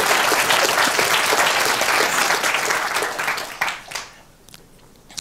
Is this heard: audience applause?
yes